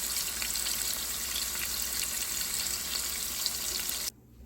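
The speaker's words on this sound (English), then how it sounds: "we got our seasoned shrimp in, and we're gonna let them cook about a minute on each side" Seasoned shrimp frying in a pan with a little olive oil, a dense steady sizzle close by and loud, continuing evenly before cutting off abruptly near the end.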